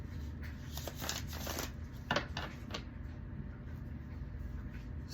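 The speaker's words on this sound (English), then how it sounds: "It's about me continuing to shuffle the cards." Tarot cards are shuffled by hand in quick, soft riffling bursts, faint and close over a low background hum, with no talking.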